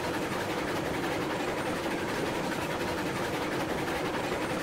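Trains rumble through the railway game Railroads Online, a steady, dense mechanical drone with a rhythmic chugging texture that holds at an even volume without pause.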